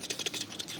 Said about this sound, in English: That's the sound of welding.